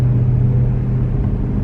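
A car rolls down a busy commercial strip lined with restaurants in Utah, a steady close interior engine and road rumble holding level throughout with no talking.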